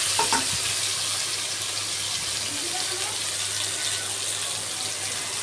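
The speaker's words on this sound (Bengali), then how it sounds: "আমার তরকারিটা ভাজা হয়ে গেছে ভাজা ভাজা করে নিচ্ছি" Vegetable curry fries in a pan with a soft, even sizzle, and a quiet hum and a few light clinks sit beneath it. A voice speaks faintly in the background.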